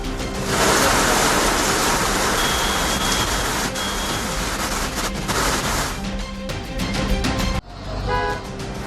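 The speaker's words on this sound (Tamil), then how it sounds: "சென்னையில் இன்றும் பல்வேறு இடங்களில் விட்டுவிட்டு மழை பெய்து வருகிறது" Heavy rain pours down on a city street in Chennai during a downpour, a loud continuous wash of noise with traffic horns and beeps mixed in, easing briefly near the end.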